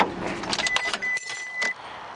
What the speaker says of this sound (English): The first thing we're going to do is turn off the vehicle.